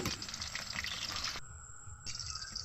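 Snacks frying in oil over a low flame, a steady soft sizzle and bubbling close by, slightly dipping midway then continuing, with no talk.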